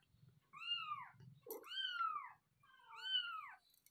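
A mother cat close to her kittens gives three loud, drawn-out meows in a row, with short pauses between them and soft low rustling behind them.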